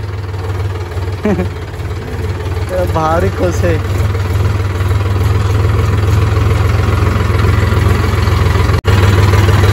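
Tractor engine idling and running steadily on a farm, a loud continuous low rumble throughout with brief voices over it.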